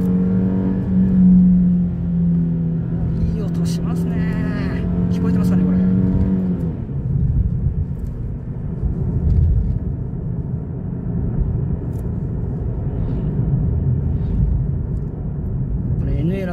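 Nissan Fairlady Z engine revving while driving, a high-pitched naturally aspirated wail rising and falling during the first half, then steady road and engine rumble, with someone talking over it.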